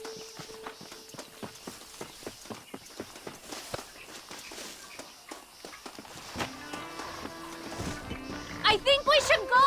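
Horses pulling a stagecoach in Red Dead Redemption, rhythmic clip-clop hooves at a steady trot under intermittent speech, with music swelling toward the end.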